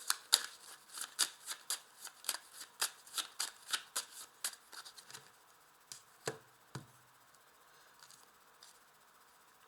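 A 32-card deck being shuffled by hand, a quick series of crisp riffling slaps close up that slows and thins out into a few scattered card snaps.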